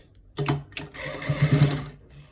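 A sewing machine stitches a trouser's right front pocket, the fabric folded inside, running in a few short bursts with brief pauses, close and fairly loud, no talking.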